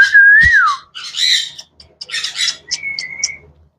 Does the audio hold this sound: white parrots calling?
yes